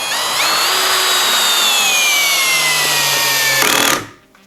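A WORCRAFT CHD-S20LiBAB cordless brushless drill whines steadily for about four seconds on torque setting 20, pitch slowly dropping as it drives a screw, then cuts off abruptly. Close and loud, no talking.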